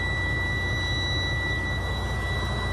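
A used truck tractor's diesel engine idles at about 600 RPM: a steady, close, unbroken low drone with a thin, constant high whine on top, with no voices.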